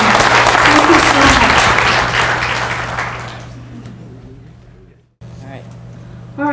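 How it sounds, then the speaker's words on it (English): An audience at a Mineral County forum in Alberton applauds loudly, then the clapping fades away over several seconds before a brief silence and a little room noise. "a round of applause for Stuart and his family"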